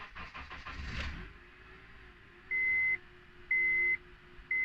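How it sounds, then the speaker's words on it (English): A car engine cranks in rapid pulses and catches after a jump start, then settles into a quiet idle while three short electronic beeps sound at even intervals. "the car starts."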